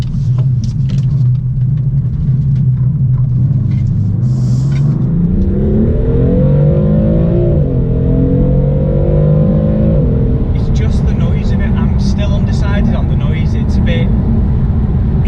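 A loud BMW M4 (F82) engine rumbles at idle, then revs up and pulls away, rising in pitch before settling into a steady drone.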